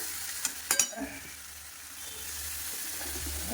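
Spice paste fried in a pan: a few sharp clinks and taps open the clip, then a steady, moderate frying sizzle continues alone, close by, with faint background voice early on.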